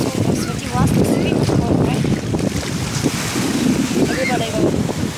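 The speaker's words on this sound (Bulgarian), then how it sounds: "Залева на вълните на Свети Власт." Sea waves at Sveti Vlas wash ashore in a loud, continuous roar of surf, mixed with heavy wind buffeting the microphone and people talking nearby.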